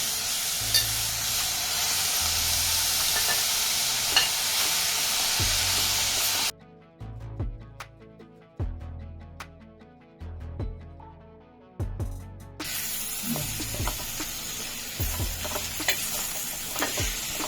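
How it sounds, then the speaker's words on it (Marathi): Bursts of hot sizzling as vegetables go into hot tempering, broken by a quieter stretch, with rhythmic scraping and tapping of a spoon against a pan throughout. "आता ही भाजी टाकूया त्याच्यात फोडणी"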